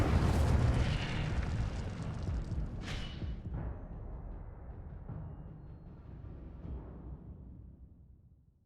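An Incendio fire spell cast in Hogwarts Legacy gives a loud whooshing blast right at the start, then a long roaring decay that fades away with a few faint pops and thuds.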